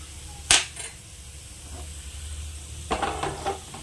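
A spice tempering of chilli powder fries in a pan for a brinjal curd curry. A soft sizzle runs throughout, with a sharp clink at the start and a few scraping stirs later.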